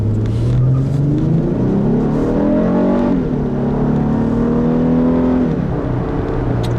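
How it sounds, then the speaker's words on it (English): A 2010 Acura ZDX with super handling all-wheel drive accelerates hard through a turn. The engine drone climbs steadily in pitch, dips as the revs fall back, then climbs again, loud and close, with no talking. "In that turn that I just took where I was pretty heavy on the throttle there"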